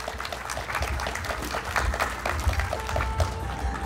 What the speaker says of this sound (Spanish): Fuerte las palmas para el señor Carlos Aldaz